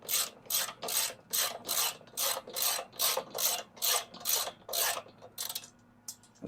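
Bolts wound in by hand on a Jeep tailgate table, a rhythmic series of about a dozen scraping ratchet-like turns, evenly spaced and close, fading to a few softer clicks at the end, with no talk.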